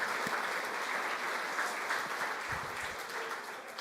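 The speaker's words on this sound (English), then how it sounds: "We can clap for them." A congregation applauds during a Kabbalat Shabbat service, giving steady, dense clapping that fills the whole stretch at an even level with no talk.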